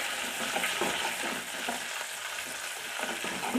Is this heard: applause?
no